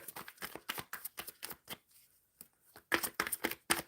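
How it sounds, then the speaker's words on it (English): Tarot cards are shuffled by hand in quick rhythmic bursts of riffling and sliding, close and crisp, with a short pause midway before the shuffling resumes. "now I'm shuffling for Cyan's near future."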